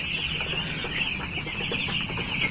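A flock of week-old broiler chickens on a farm peeps and clucks continuously at close range, forming a dense, high-pitched chorus with no pauses.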